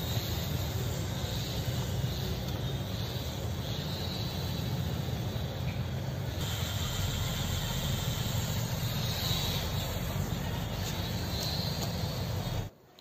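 A remote control toy helicopter's motor runs steadily as a loud, continuous whir with a broad hum, then cuts out abruptly near the end.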